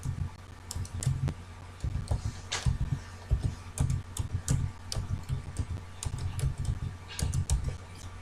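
Password being typed on a computer keyboard, a steady run of close, crisp key clicks in uneven bursts with no talk.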